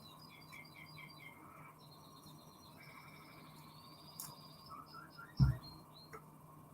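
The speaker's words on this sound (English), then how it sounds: "Tropical jungle with my Canarian bird." A pet canary sings indoors in soft, quick trills and repeated high chirps, fairly faint, with a brief thump near the end.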